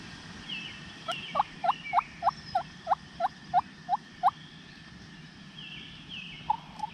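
A wild turkey gobbler calls from a cut cornfield, a rapid string of about ten clucking gobble notes at a steady rhythm, distant and moderately faint, followed by a brief further call.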